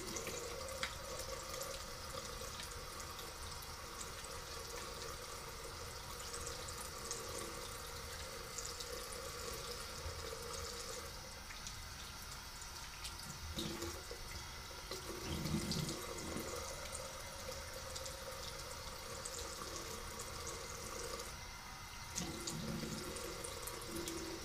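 Cold tap water runs steadily into a sink while a razor cartridge is rinsed under it, a soft continuous splashing stream with small shifts in tone as the blade moves through the flow, and no talking.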